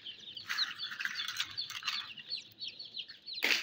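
Chickens cluck and chirp in bursts close by, with a fuller squawk near the end against a quiet yard.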